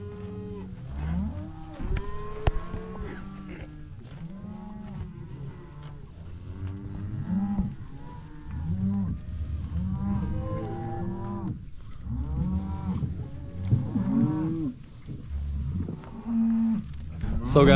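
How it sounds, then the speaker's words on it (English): Cattle grazing in a pasture low repeatedly through the scene, with several long, overlapping moos from nearby animals. The calls rise and fall at irregular intervals over a soft background. "the cows are still just grazing here."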